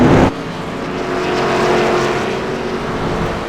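Race cars lapping Tsukuba Circuit in the iRacing simulation during an ARCA Menards Series event; a loud, close engine drone sweeps upward and holds a high, steady whine before gradually easing, with no talking.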